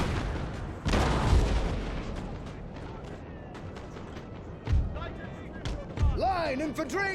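Deep booming cannon blasts on a Napoleon: Total War battlefield, a few heavy thuds spaced out over several seconds amid continuous rumbling combat noise and distant clatter.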